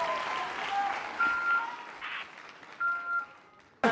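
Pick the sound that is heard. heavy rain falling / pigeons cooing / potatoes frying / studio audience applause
studio audience applause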